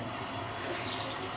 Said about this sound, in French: Et donc pour rincer mon visage